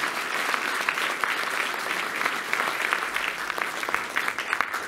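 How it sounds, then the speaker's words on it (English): A dense, steady round of applause from the keynote audience at the Portland Retro Gaming Expo, with many hands clapping together at full strength for several seconds and no gaps. "if we could all give a round of applause to Keith"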